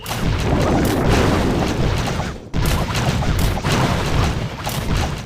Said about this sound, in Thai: แต่ว่าเสียงยิงนะครับ ดูเหมือนว่าจะเปลี่ยนใหม่ ลองฟังดูนะ